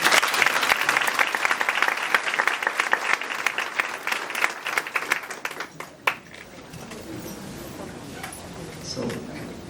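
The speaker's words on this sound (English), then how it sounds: "give all of the trustees a round of applause" A crowd at a township board meeting claps for the trustees in loud, dense applause that thins and fades toward the end, with voices mixed in.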